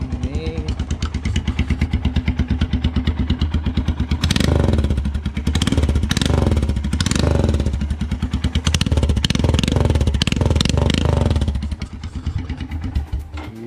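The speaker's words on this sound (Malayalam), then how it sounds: "ഇനി സൈലൻസർ ഊരി വെച്ചിട്ടുള്ള സൗണ്ട് ഞാൻ ജസ്റ്റ് കേൾപ്പിക്കാം." A Royal Enfield Himalayan fitted with an Akrapovic exhaust, silencer removed, runs loud and close, with a rapid thumping idle and a series of hard throttle blips that swell into a harsh, crackling roar before settling back.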